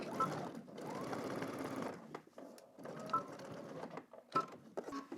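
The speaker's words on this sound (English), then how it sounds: "Okay, so let's head to the machine and stitch this." A sewing machine stitches a pocket bag seam in quick bursts of rapid mechanical rattling, separated by short pauses as the fabric is repositioned, close and clear.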